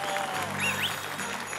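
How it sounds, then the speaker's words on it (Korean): Studio audience applause on a Korean TV quiz show, a dense steady patter of clapping at moderate volume with a faint background tone, lasting the whole short stretch. "박수 한번 주세요"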